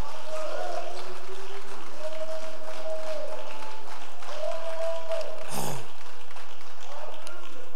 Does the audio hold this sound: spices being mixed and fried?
no